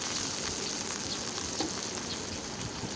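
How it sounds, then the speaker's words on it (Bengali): Small shrimp frying in mustard oil with crushed garlic in a kadai, a steady, close crackling sizzle with light spatters and no voices. "এখন দিয়ে দেব ছোটো চিংড়িগুলো। এখন ভালো করে ভেজে নেব।"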